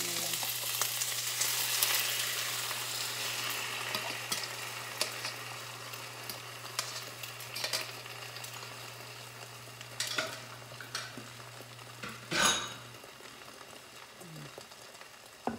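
Spinach frying in a pan for a turkey breakfast dish, a steady hissing sizzle with scattered utensil clinks and stirring scrapes, a louder clatter near the end, and no speech.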